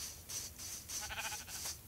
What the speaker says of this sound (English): Oh no, there's a sheep.